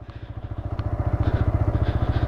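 A TVS Raider 125 motorcycle rolls in second gear without throttle, its engine chugging in a steady rapid pulse up close, with a faint clatter over the low thrum.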